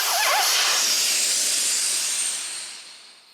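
Air rushes in a loud, close hiss from the loosened valve stem of a Kawasaki KLR650 motorcycle tire. It starts strong, then slowly fades over about three seconds.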